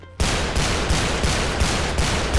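Rapid bursts of video game gunfire from a Counter-Strike match played inside GTA 5 roleplay, a loud, dense stream of shots with a regular pulsing rhythm, close and alone without talk.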